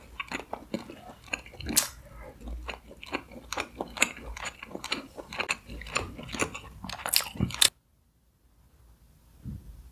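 Close, crunchy biting and chewing of roe-filled mantis shrimp, a dense run of wet crackles and crunches for about eight seconds before stopping into near silence.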